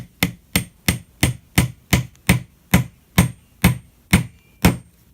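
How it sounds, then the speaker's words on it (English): A hammer taps a glued wooden dowel joint with about thirteen sharp, evenly spaced knocks in a steady rhythm, close and moderately loud with quiet gaps between strikes. "So now, we get a hammer."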